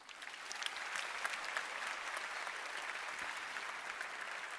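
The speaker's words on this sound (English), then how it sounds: "Give yourself directly an applause" A large audience in the European Parliament hemicycle claps steadily, a dense, even wash of applause that holds from start to finish with no talking.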